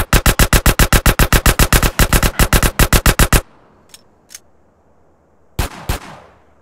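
Rapid rifle fire from the Grand Theft Auto: San Andreas video game, a long burst of about twenty loud, evenly spaced shots, then a quiet pause with faint clicks and two final close shots.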